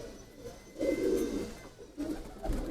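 Soft, low pigeon cooing repeats a few times close by in a pigeon loft, gentle and murmuring against a quiet background.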